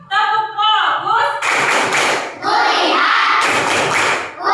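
Children perform the 'tepuk fokus' clapping routine in a classroom, with bursts of loud group claps and thuds alternating with chanted young voices in a quick rhythmic pattern.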